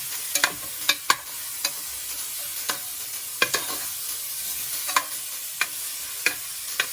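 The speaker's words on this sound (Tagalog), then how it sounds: "ginisa ko siya sa bawang, paa, tapos may belly pork yan." Belly pork and pork feet sautéing with garlic in a pan give off a steady sizzle, and a spatula scrapes and taps the pan in irregular strokes. The cooking is close and nobody speaks.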